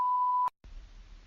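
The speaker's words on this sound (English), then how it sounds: "Leave a message after the beep." An answering machine sounds a steady electronic beep, a single clear tone lasting about half a second, followed by a brief silence and then low background hiss.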